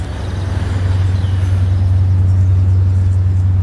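An Audi car driving along the Seine, a steady low engine and road rumble holding close and loud throughout with no talk over it.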